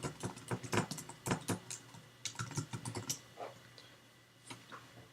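Quick bursts of typing on a computer keyboard as a university's name is entered, close and moderately loud with irregular clustered keystrokes and brief pauses.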